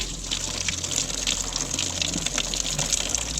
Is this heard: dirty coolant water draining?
yes